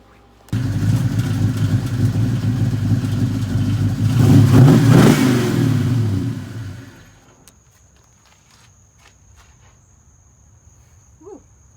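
An old Ford car, driven daily, runs loud and close with a steady engine drone that swells briefly midway, then shuts off, leaving a quiet outdoor background with faint insect chirps.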